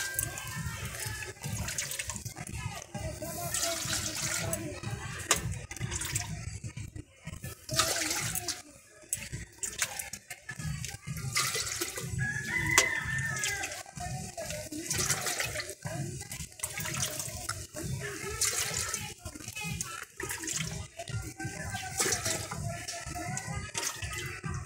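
Water poured from a bowl into a cooking pot of rice for Basanti polao, a steady close splashing gush that runs on with short breaks between pours.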